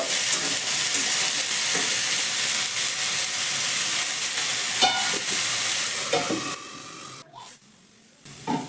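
Vegetables with turmeric and spices sizzle steadily in a hot pan while being stirred, with a loud frying hiss, scraping and clinking of the stirring spoon, then quieter knocks toward the end.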